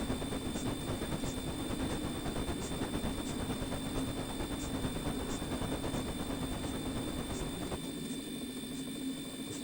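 An NZR Kb class steam locomotive in a video game runs with a steady mechanical rumble and rhythmic chuffing pulses, plus a constant high whine, easing off slightly near the end; no voices.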